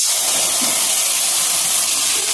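Water added to potato masala frying in a pan, giving a loud, steady, broad hissing sizzle that runs unbroken throughout.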